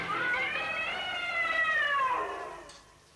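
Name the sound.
cat meowing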